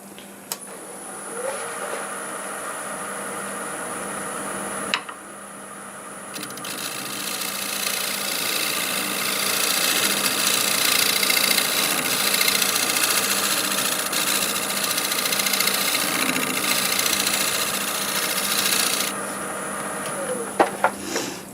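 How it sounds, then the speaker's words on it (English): A negative rake scraper works a piece on a spinning wood lathe, with a steady, close machine hum and a fine scraping hiss running for about twenty seconds, bracketed by brief changes as the tool engages. "I'll use the negative rake scraper just to blend that in."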